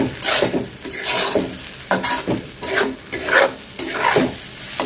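Rhythmic scraping and stirring of rice with cinnamon and cardamom sautéing in a pot for ilish pulao, a spoon dragging in repeated strokes over a light sizzle, close and fairly loud with no talk.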